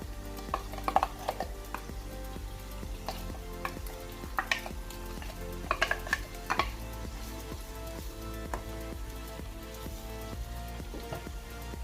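Onion and minced meat frying for a Bolognese sauce, a low steady sizzle with scattered sharper pops and stirring clicks throughout, fairly quiet and with no voices.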